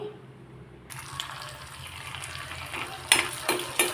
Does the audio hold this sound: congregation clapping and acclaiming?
no